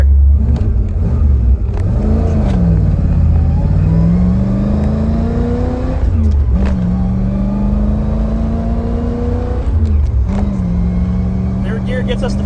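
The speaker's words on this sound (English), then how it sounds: "let's make a pass. Here we go. First gear." A Pontiac Trans Am pulls hard in first gear, its engine note climbing and dropping through repeated rising revs with steady, loud exhaust drone, while someone talks intermittently over it.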